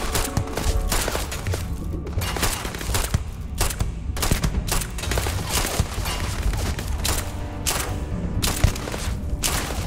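Rapid gunfire in a Starfield firefight, with dense overlapping bursts and sharp shots cracking steadily, loud and close, and the odd heavier thump among them.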